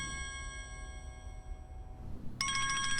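A mobile phone plays a bright, melodic ringtone, faint and steady, then a louder repeat of the tone starts abruptly near the end, with no talking.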